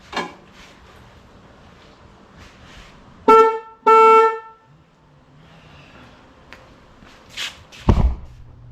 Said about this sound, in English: let's test the horn